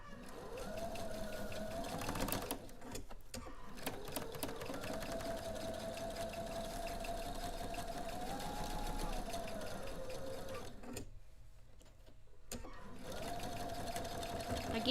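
Sewing machine stitching a quilt row with a scant quarter-inch seam, a steady close whirring drone that runs almost without a break, with brief pauses, and no speech.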